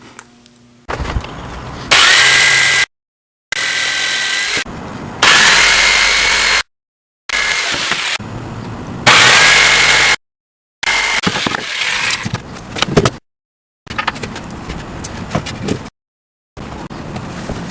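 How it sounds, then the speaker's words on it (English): Power saw cutting lumber outdoors, loud whining cuts in repeated bursts separated by brief silences, each pass close and harsh as the blade chews through the wood. "let's go outside and cut some lumber"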